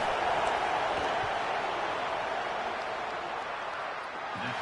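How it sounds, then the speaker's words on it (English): Stadium crowd noise in a college football video game, a steady roaring wash of cheering as the kicker lines up a field goal, sustained and even throughout with no clear voice on top. "This crowd trying to do its part to get inside the kicker's head."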